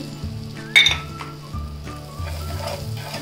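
Butter sizzling in a hot pan before pav is toasted for street-style pav bhaji, a soft steady fry with a sharp metallic clink and a few light scrapes of a utensil.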